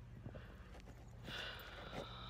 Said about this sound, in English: My sister's horses are refusing to eat their dinner at the moment